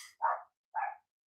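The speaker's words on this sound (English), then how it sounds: "got distracted by a dog barking outside" A dog outside barks twice in quick succession, two short clear barks a half-second apart, moderately faint and otherwise quiet.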